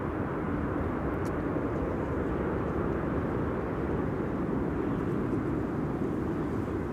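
A KLM airliner arriving at Amsterdam Schiphol from Copenhagen, heard as a steady, broad distant roar of jet engines that holds an even level throughout with no voices.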